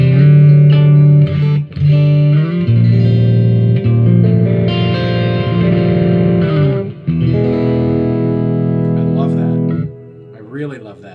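Kiesel Zeus electric guitar playing a slightly gritty clean tone with the volume turned down, sustained ringing chords and single notes through an effects patch with chorus and reverb, loud and close, no talking.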